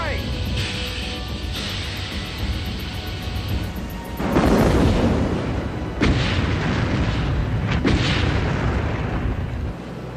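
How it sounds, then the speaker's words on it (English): Torpedoes strike two British merchant ships, booming explosions rolling out over a dense, roaring wash of noise, with a second heavy blast following the first in a dramatized wartime U-boat attack. "Two British merchant ships exploded and disappeared beneath the waves."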